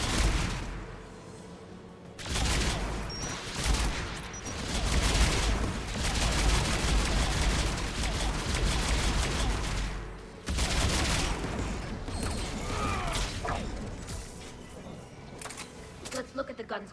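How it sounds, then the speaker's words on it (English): Geth anti-aircraft guns fire in Mass Effect 3, a dense, continuous barrage of heavy rapid gunfire and booming blasts that carries on with only brief dips. "Geth anti-aircraft guns are up ahead."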